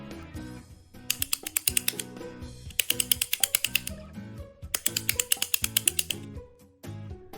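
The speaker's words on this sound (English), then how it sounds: "this object is a clapper" A handheld clapper makes rapid bursts of sharp wooden clicks and rattles, three dense flurries with quieter clacking between them, close and fairly loud.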